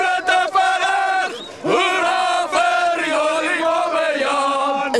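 A crowd of Afrikaners chants a taunting song at a tense street confrontation in South Africa, many voices together in sustained, sung phrases with a short break near the middle, loud and close.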